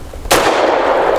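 A single sharp gunshot from a Tisas Tank Commander 9mm 1911 pistol cracks loudly nearby, followed by a brief ringing decay.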